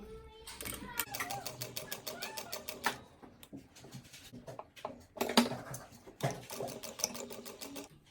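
A sewing machine stitches a seam on a linen skirt in quick rattling bursts with short pauses, close by, while someone talks over the stitching.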